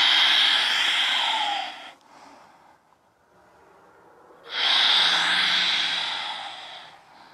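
A person breathes during a chair yoga exercise: a long, loud, airy breath, a near-silent pause, then another strong, sustained breath. No one speaks.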